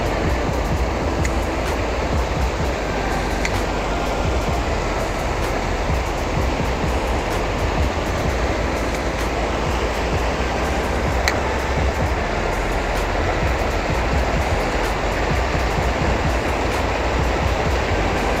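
Steady roar of water pouring over a dam, a dense, unbroken rush that stays constant and fairly loud with no voices throughout.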